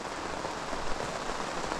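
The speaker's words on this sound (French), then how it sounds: "il pleut quoi." Steady rain falls outside, a dense, even hiss of drops on surfaces that holds without a break at moderate loudness, with no voices.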